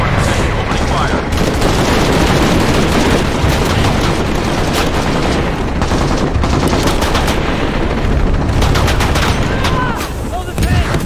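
Continuous loud gunfire in the video game Shadow of the Tomb Raider: dense rapid bursts of automatic fire with booms layered over a constant roar, unbroken for the whole stretch.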